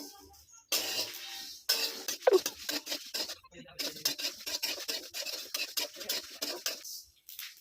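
Spices frying in a pan for a sour-spicy green mango pickle are stirred continuously, giving close, steady scraping and rubbing strokes with a faint background sizzle; there are brief pauses near the start and the sound stops near the end.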